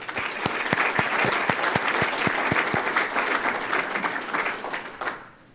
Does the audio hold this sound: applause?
yes